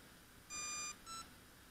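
Two short electronic programming beeps from a Hobbyking Skull Crusher RC monster truck's ESC, the first longer and the second brief, sound faintly over a quiet hum.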